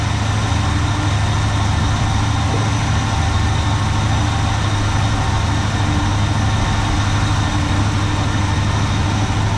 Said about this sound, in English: Yeah, I'd say we got a good running motor here.